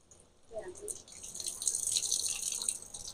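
Water poured onto a potted Cattleya orchid while watering it around the sides, a soft splashing trickle that starts after a brief pause and runs steadily to the end, with a voice heard briefly near the start.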